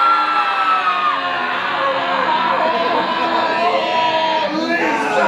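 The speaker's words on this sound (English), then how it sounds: "Everyone scream along with Lisa." A theater audience at a horror make-up show screams together in one sustained loud wave of many voices, with shrill yells rising near the end.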